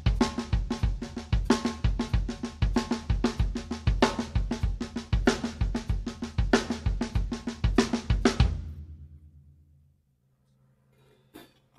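Drum kit groove with bass drum alternating against left-hand backbeat hits, a steady, punchy rhythm played close and loud for about eight seconds before ringing out into near silence and a faint final tap.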